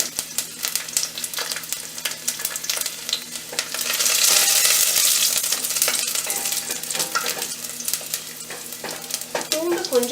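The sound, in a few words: spluttering oil frying for tomato pickle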